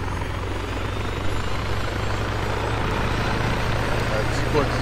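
A helicopter flies in a military video game, its low rotor thrum and engine drone holding steady and fairly loud throughout.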